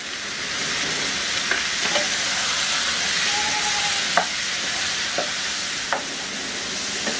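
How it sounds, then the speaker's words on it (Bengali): About a kilogram of green mango pieces with turmeric powder stir-fries in a pan, a continuous close sizzle broken by several sharp spatula scrapes and taps. "এখানে 1 কেজি আম আছে, এর সাথে একটু নেড়ে চেড়ে ভেজে নিব।"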